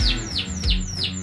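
A canary chick calls in a run of four thin, descending chirps in quick succession, close and clear with no other sounds.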